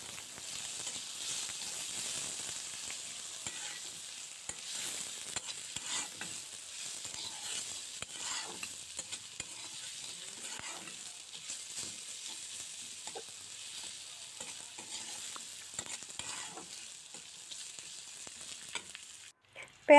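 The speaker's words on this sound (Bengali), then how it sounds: "পেঁয়াজটাকেও নেড়ে চেড়ে একদম নরম হয়ে আসা পর্যন্ত ভেজে নিচ্ছি।" Chopped onion fries in oil in a pan, a soft continuous sizzle punctuated by scraping stirs from a spatula, close but fairly quiet with no voices.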